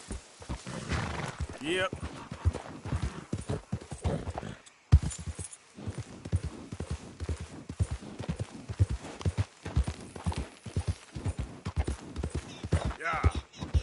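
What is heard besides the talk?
horse galloping in Red Dead Redemption 2 (video game)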